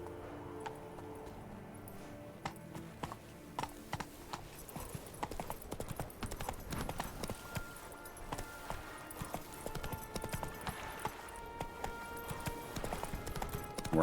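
Hooves of the horse Roach clip-clopping in The Witcher 3, a quiet, steady walking and trotting rhythm of hoofbeats on ground that becomes denser partway through, with faint game ambience.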